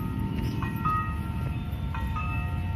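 A train passing a railway level crossing in Purwokerto, heard as a steady low rumble of wheels with faint, high crossing-bell tones ringing intermittently above it, and no talk.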